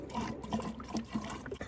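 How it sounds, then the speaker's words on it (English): Purified water pours steadily into a 2-litre plastic bottle outdoors on a hiking trip, a continuous low gurgling trickle with small splashes, fairly quiet throughout. "we're going to fill up my bottle"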